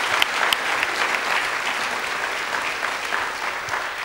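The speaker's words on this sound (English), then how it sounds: "Let's give them one more round of applause." Church congregation applauding a choir and drama team after a Christmas musical, a steady, dense wash of clapping from a large indoor audience that holds evenly throughout with no talk.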